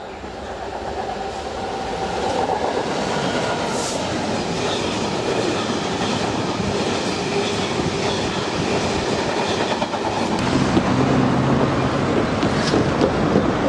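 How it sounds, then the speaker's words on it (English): A freight train from Eastleigh East Yard to Hinksey Sidings rolls past close by, a loud continuous rumble with rhythmic wheel clatter that swells toward the end. "the train that's on its way is the Eastleigh East Yard to Hinksey Sidings."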